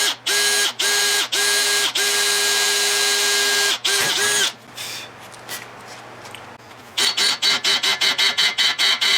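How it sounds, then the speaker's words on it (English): A power drill whirs in short, loud, close bursts with brief pauses, goes quieter in the middle, then revs in a quick run of rapid bursts. "I guess I can drill it right here just as easy as I can drill it anywhere else."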